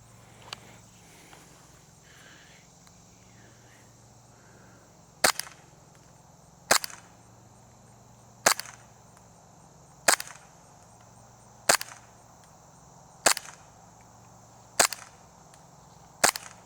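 A Novritsch SSP 5 airsoft pistol fires about eight sharp, loud snapping shots at a steady rhythm of roughly one every second and a half, with quiet outdoor ambience between them.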